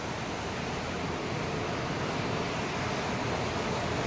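River water flows beneath a hanging bridge near the Amochu, a steady, loud broadband rush with no pauses and no voices.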